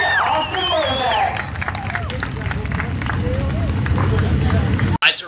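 Crowd at a race track applauding the feature race winner, a broad continuous wash of clapping and cheering heard at a distance beneath a loud announcer talking over the public address.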